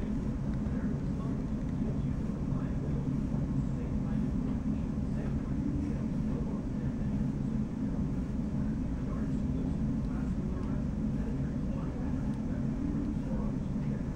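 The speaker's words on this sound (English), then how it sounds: "Helicopters are so cool." A helicopter flies overhead, producing a steady, continuous low rumble and drone that holds at an even loudness throughout, with no clear pass-by or fade.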